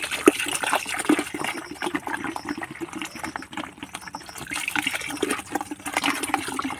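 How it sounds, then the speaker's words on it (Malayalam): Three litres of vinegar poured into a container that already holds salt, mixed as a grass-killing solution; a steady, splashy liquid gush runs throughout at close range with no talk. "ഒഴിക്കണം മൂന്ന് ലിറ്റർ വിനാഗിരിയും ഇതിനകത്ത് ചേർക്കണം"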